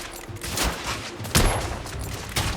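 Heavy gunfire in The Order: 1886 video game, dense overlapping shots and bursts with loud sharp reports erupting repeatedly over a constant noisy battle backdrop.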